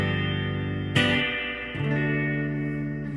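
Electric guitar notes ring through an amplifier with its digital reverb turned up high, sustained tones washing into a long echoing tail, a sharp pick attack partway through and a new held note following, with no voices.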